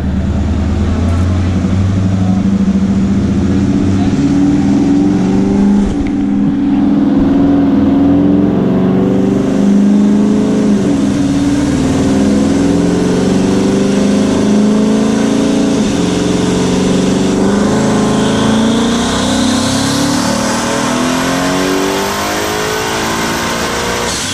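A twin-turbo Coyote V8 in a Foxbody runs a dyno pull, with a loud, sustained engine roar that climbs steadily in pitch as it revs, close and continuous throughout.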